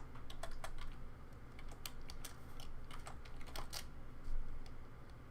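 Someone types quickly on a computer keyboard, a steady run of close, crisp key clicks with a few louder taps, with no speech.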